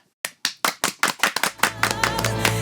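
Several distinct claps ring out in a slow, uneven sequence from a live audience at a musical performance, then merge into sustained applause with a low musical tone entering underneath.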